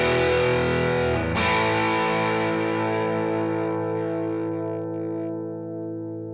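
A Telecaster run through a Skreddypedals Lunar Module distortion pedal, with a sustained distorted chord that is restruck once early on and then rings and slowly decays, thick and loud, with no other sound around it.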